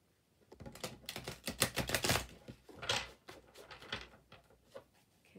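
Tarot cards are shuffled by hand in quick flurries of crisp riffling clicks and flaps, faint and close, coming in uneven bursts with brief pauses between.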